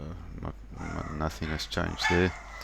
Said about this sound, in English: Apologies for my dogs.